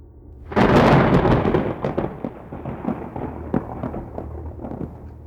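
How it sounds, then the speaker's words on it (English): A loud thunder clap bursts suddenly and then rumbles and crackles as it fades over several seconds, alone with no voices. "I nearly jumped out of my chair, surprised by a loud shock of thunder."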